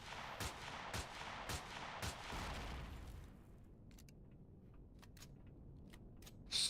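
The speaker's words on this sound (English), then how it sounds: "how many shots have I put into this thing and we haven't destroyed it yet?" Sharp gunshots from the space survival game Empyrion pound a target in a steady rhythm of loud, close reports for a few seconds, then fade into quieter scattered clicks and pops with one louder hit at the end.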